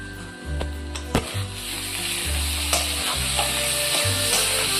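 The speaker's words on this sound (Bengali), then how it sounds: "এবার আমি এটা ভালো করে কষিয়ে নেব" Bengali spice masala with Kashmiri chili powder sizzles in a pan, a steady close fry broken by rhythmic scrapes and clinks as a spoon stirs it every second or so, with no talking.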